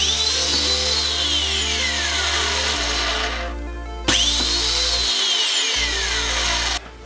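A counterfeit DeWalt DWE4057 angle grinder, lacking soft start, whines steadily at speed, winds down, then snaps abruptly back to full speed with a loud high-pitched whir, close and alone.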